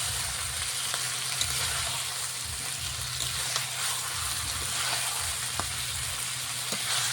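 Fish stirred into a pan of sizzling, oil-glossed masala for a Bengali fish curry, a steady close frying hiss with occasional scraping and stirring clicks, no voices.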